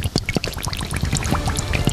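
Spring water splashes and pours from a source along a mountain hiking trail, a close, irregular burble of gurgles and drips with no talking.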